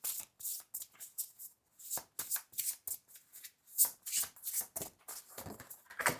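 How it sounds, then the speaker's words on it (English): Tarot cards being shuffled by hand, a run of quick crisp riffling and slapping bursts at an irregular rhythm, close and clear with no talking. "Let's pull 3 more cards."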